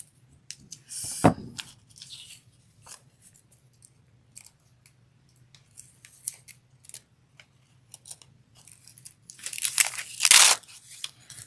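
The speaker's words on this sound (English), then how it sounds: "Just peel off a piece of tape first." A strip of tape is pulled off a roll for a Dollar Tree Valentine's wreath craft, with short crackling rips and light crinkles at close range, the loudest rip near the end.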